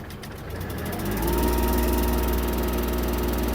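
Kubota GL-23 mini tractor diesel engine revving up in fourth gear with the rotary tiller blades spinning and the guard removed, a loud steady mechanical drone rising after the first second and holding with rattling gear noise.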